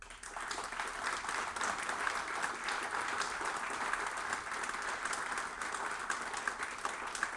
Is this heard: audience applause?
yes